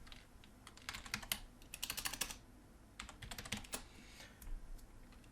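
Typing on a computer keyboard, quick clustered bursts of light key clicks with short pauses between, faint and close.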